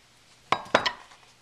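A knife cutting through a slice of pound cake, giving two or three quick scraping clinks of the blade against the plate or board, close and brief in an otherwise quiet room.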